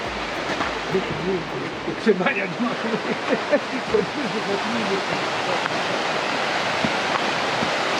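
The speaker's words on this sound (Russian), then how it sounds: "И вот тут сразу речка у нас." A river rushes right beside a mountain sauna, a broad, steady hiss of flowing water close by, with people talking over it.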